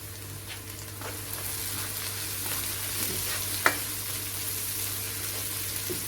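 Chopped onions frying in a pan for a chicken korma, a steady soft sizzle with faint stirring scrapes and one brief clink, quiet and continuous.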